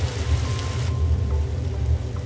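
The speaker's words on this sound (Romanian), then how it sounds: "Se pare că avem parte de o ploaie torențială aici la New York." Torrential rain pouring down in New York, a dense, steady hiss of heavy drops hitting surfaces nearby, with no voices over it.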